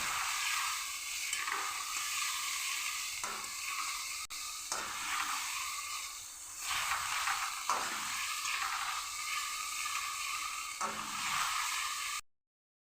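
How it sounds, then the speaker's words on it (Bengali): Spice paste seasoned with turmeric and salt fries in a pan for a prawn and taro-stem curry, giving a soft, steady sizzle broken by repeated stirring and scraping strokes. "পরিমাণ মতন নুন দিয়ে মশলাটাকে আমি ভালো করে কষিয়ে দেবো"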